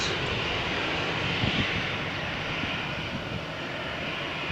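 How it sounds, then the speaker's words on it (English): An Iberia Express airliner takes off at Malaga Airport on runway 13 on a stormy morning, a loud, steady, broadband jet engine roar sustained throughout, heard from nearby with no voices. "Iberia Express is now ready for takeoff."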